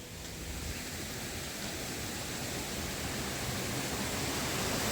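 Water runs into a newly built roadside drain channel in a forest area, a steady broadband rushing wash that holds constant and slightly swells, with no talking.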